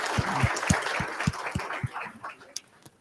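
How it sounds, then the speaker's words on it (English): Audience applause at the close of a session at an innovation day event, with distinct heavy claps standing out and the clapping thinning toward the end. "Let's give a final round of applause"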